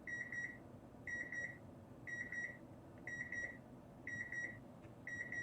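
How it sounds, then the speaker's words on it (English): A kitchen timer beeps in repeated double-pulse bursts roughly once per second, thin and clear over a steady low background hum, with no talking. "I forgot about the timer."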